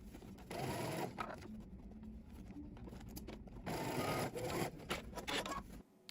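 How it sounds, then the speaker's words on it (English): A sewing machine runs a 5/8-inch seam in bursts, a fairly quiet, even mechanical whirr that pauses briefly and starts again before stopping. "you're going to go to the sewing machine and we're going to stitch this using 5/8 of an inch seam allowance"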